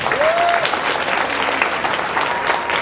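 Applause from a crowd at a student government swearing-in ceremony, a dense steady clatter of clapping that fills the whole stretch at close range with no talk over it.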